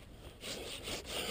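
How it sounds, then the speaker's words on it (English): A hand saw cuts back fruit tree branches in repeated rasping strokes, close by and fairly quiet, with no voices. "I am sawing these trees back more radically than I normally would"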